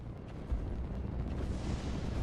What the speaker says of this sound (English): Expect missile strikes from above.